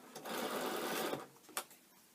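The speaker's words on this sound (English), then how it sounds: "I'm going to stitch all the way" A sewing machine stitches down a seam on fabric in a quick, close burst of about a second, stopping abruptly and followed by a couple of small clicks.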